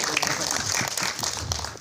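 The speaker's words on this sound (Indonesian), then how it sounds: "Boleh tepuk tangan dong teman-teman media." Members of the media at a film press conference clap briefly, a short patter of moderate applause with some chatter mixed in.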